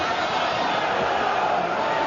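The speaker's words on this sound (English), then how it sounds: "what a crowd. These people are going crazy here" An arena crowd of around 11,000 roars steadily at the Nigel Benn versus Gerald McClellan boxing fight, a dense, loud, unbroken wall of cheering.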